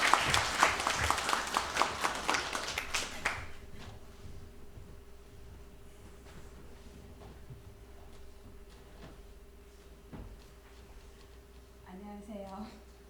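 A church congregation applauds during a Sunday morning service; a short burst of loud clapping fades within a few seconds, leaving quiet room noise with faint shuffling and a brief murmur near the end.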